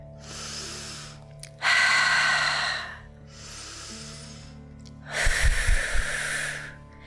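Forceful breaths during a yoga exercise for the low back: four long airy exhales and inhales, each lasting about a second, close to the microphone, with the last one rougher and heavier.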